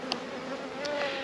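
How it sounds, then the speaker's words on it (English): Bees at a hive with a drone-laying queen, giving a close, continuous buzzing drone with slight wavering pitch and a brief flick of wings, and no voices. "there's a lot of bees there"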